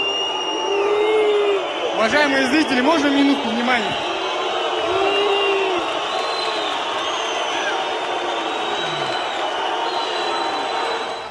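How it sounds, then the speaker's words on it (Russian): An arena crowd boos and jeers after an MMA fight, a loud sustained roar of disapproval filling the hall while an announcer speaks over the noise on a public address system. "Зал освистывал его после боя еще несколько минут и не давал ничего сказать"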